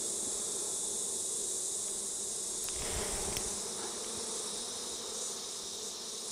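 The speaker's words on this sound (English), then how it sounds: "Shake all the bees off." Honey bees swarm around hive frames during an inspection of brood in flow frames, giving a steady, dense buzzing drone that holds for several seconds with no speech.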